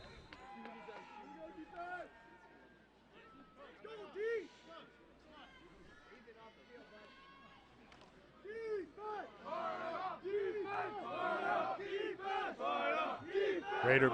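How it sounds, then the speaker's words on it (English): Football players on the sideline bench cheer and shout for their defense at a high school game, a crowd of voices whooping and yelling, growing louder and more excited in the second half. "Raider bench continues to cheer on their defense"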